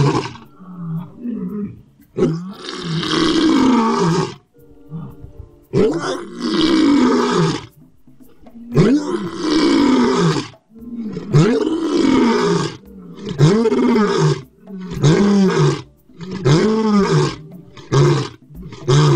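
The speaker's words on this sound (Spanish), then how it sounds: "Cada individuo posee un tono vocal propio, así como entonación áspera o más clara, dependiendo del motivo del rugido." A big cat gives a series of deep, rasping roars, loud and close, coming in repeated bursts with short pauses, grunting phrases that quicken toward the end.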